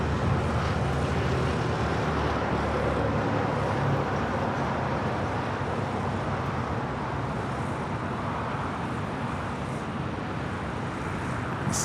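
An American Airlines Boeing 777 taking off at LAX, a steady broadband jet roar holding loud and even for about twelve seconds with a faint traffic hum beneath.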